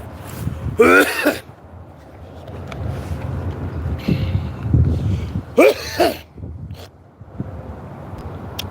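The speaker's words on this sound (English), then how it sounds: "Why am I coughing all of a sudden?" Two short harsh coughing bursts, close by, separated by a few seconds of quiet rustling and low rumble.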